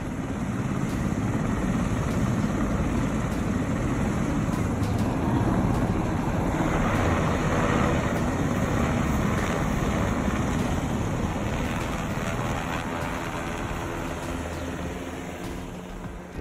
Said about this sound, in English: this video is incredible, with Black Hawk helicopters landing in and out of intersections